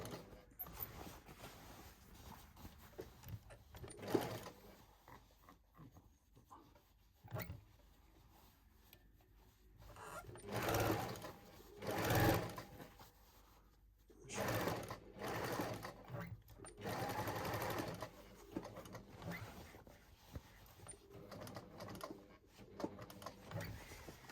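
A sewing machine stitches a patch over a knee hole in jeans, running in several bursts of rapid mechanical whirring and clatter, with short stops and handling noises between runs, close and fairly loud.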